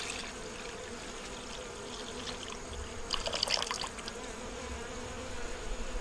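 Sugar water is poured for a small beehive outdoors, a brief trickling splash rising midway over the soft, steady buzzing of bees nearby.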